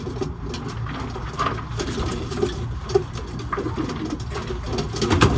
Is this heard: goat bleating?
no